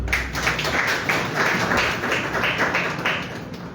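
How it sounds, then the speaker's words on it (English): An audience at a speech event in South Africa bursts into clapping, a dense, steady patter of many hands lasting several seconds. "I didn't expect you to clap."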